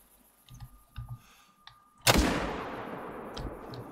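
A single loud, sharp .30-06 hunting rifle shot cracks out after a few faint clicks and thumps, followed by a long rumbling echo that slowly fades.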